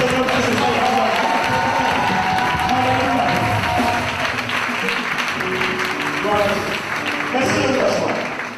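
A church congregation in Abidjan claps and cheers together, a dense sustained wave of applause that fills the room, with voices shouting and talking through it before it slowly tapers off.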